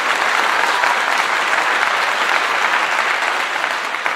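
Sustained applause from an audience, a dense, steady wash of many hands clapping close and loud throughout with no speech over it.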